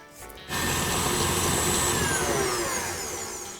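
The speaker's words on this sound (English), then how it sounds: "we're going to mix the butter and sugar together for about 2 or 3 minutes until it's light and fluffy" Electric mixer creaming butter and sugar in a bowl, starting abruptly after a brief quiet moment and then whirring loudly and steadily, with a slight drop in intensity toward the end.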